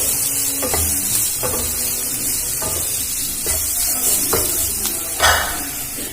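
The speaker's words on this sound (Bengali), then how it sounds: "আমি ভালো করে নাড়াচাড়া করে ভেজে নেব।" Vegetables are stir-fried in a pan for a Bengali-style snack: a steady, loud sizzle runs throughout, broken by regular scraping strokes of the spatula against the pan roughly every second.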